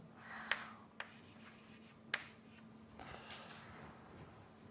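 Chalk writing an equation on a lecture-hall board in a statistical mechanics class, faint steady scratching punctuated by a few sharp taps as strokes begin, heard up close with no speech over it.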